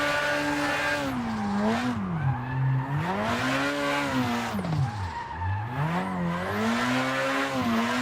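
Mazda Miata drifting in the Assetto Corsa racing game on a village mountain pass, with a loud, steady engine whose pitch rises and falls through gear changes, continuous tyre squeal throughout and no talking.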